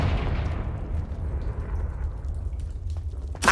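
A Confringo spell explosion in the Hogwarts Legacy video game: a loud, low rumbling blast that holds steady and slowly fades over a few seconds, with a sharp crack right at the end.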